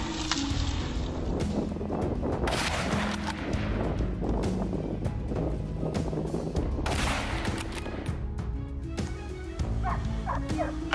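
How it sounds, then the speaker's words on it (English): Gunshots ring out during a wild boar hunt in a wheat field, with loud sharp bursts scattered through steady outdoor noise and dog barking mixed in. "After a loud gunshot, the wild boar was completely defeated."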